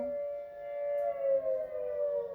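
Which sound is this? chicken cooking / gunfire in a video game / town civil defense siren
town civil defense siren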